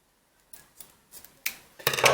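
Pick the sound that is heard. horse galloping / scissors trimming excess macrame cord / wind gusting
scissors trimming excess macrame cord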